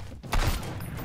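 A single gunshot booms in the video game Sunkenland, a short loud thump with a brief tail over quiet game ambience.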